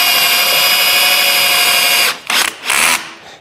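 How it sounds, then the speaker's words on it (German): Power drill driving 5x140 screws into a wooden children's desk with a built-in football goal, a loud steady whine for two seconds, then two short bursts as the screw seats. "Ich nehme jetzt hier, ich glaube, das sind 5x140er Schrauben."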